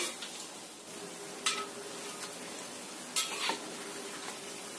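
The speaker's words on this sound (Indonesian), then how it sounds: "Goreng sampai benar-benar kuning, kuning kemasan atau kering." Krupuk crackers fry in hot oil with a steady, soft sizzle throughout, broken by two brief louder bursts of stirring or turning in the pan, with no voices.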